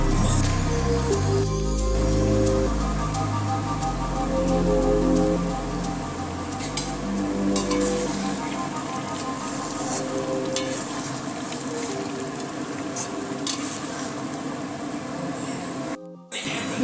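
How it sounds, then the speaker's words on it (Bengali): A pan of rajma paneer gravy made with kidney beans bubbles and simmers steadily, a dense crackling, sizzling texture running throughout, with a brief gap near the end. "আরও এক থেকে দু মিনিট ফুটিয়ে নিয়ে আমি নামিয়ে নেব"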